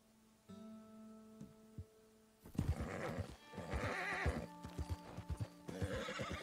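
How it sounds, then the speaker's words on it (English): In a video game, a horse whinnies loudly, then hooves clip-clop in a steady rhythm close by, with a low hum underneath. "Come on, you silly horse."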